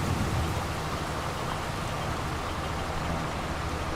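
Loud, constant rain from the game Farming Simulator 22, a thick unbroken wash of hiss and drumming with a low rumble beneath, steady for the whole stretch without voices.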